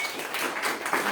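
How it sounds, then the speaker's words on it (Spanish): Audience applause at a book presentation, a dense burst of clapping that fills the whole brief moment at a fairly loud level. "Un aplauso para Daniel."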